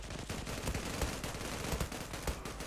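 Gunfire in the online shooter Zula during a 5v5 deathmatch: a dense, continuous clatter of rapid shots with sharp cracks standing out, loud and steady for the whole stretch.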